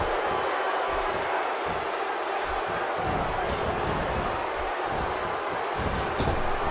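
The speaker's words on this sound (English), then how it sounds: "The crowd is buzzing." A packed WWE wrestling arena crowd buzzes at the 2016 Royal Rumble during a women's match, a continuous loud roar of many voices with no single speaker standing out.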